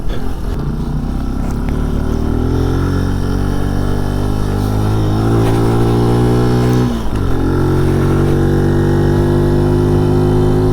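A Benelli Tornado TNT 125 motorcycle engine pulls hard uphill, its loud, steady buzzing drone held close throughout. The note rises gradually, then dips briefly before climbing again as the rider shifts or eases off.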